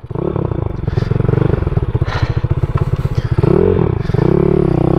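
A small pit bike engine revs hard and close, throttle blips rising and falling with a rattling, buzzy idle between pulls.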